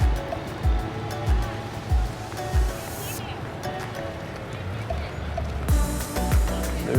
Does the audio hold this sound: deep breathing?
no